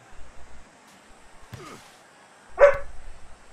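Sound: dog crying and barking

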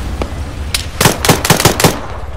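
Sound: gunfire in a video game

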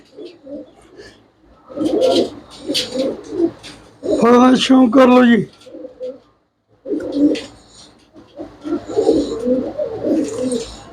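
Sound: pigeons cooing

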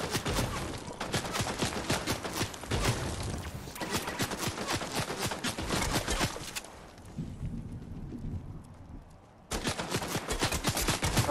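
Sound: gunfire in a video game

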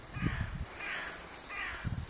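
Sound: birds calling

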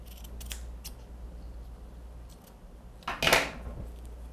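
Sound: scissors cutting silk stocking fabric for a baby headband

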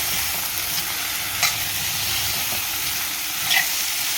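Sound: stir-frying chickpeas, peas and vegetables in masala

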